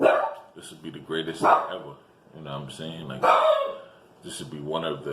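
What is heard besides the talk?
dog barking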